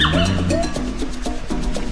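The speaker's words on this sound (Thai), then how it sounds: "มีลูกหมา มีลูกหมามา มาเต็มเลย" Several puppies yip and bark in quick, overlapping bursts, fairly close, over a steady background rumble, outdoors in the rain.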